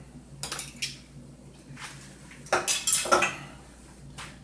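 Salt being mixed into pastry dough ingredients in a bowl, heard as a few scattered clinks and scrapes of a utensil against the dish with quiet moments between.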